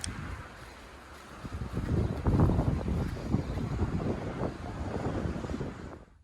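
Wind gusts in an outdoor hotel area at Bahrain Bay, rumbling and buffeting the microphone, building after a quieter start and staying strong before cutting off.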